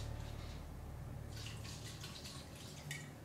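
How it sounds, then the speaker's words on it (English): Wine is poured into a crock pot, a soft trickling and splashing of liquid that grows livelier midway, quiet and close with no talk over it. "Next, we're going to add in the rest of the wine."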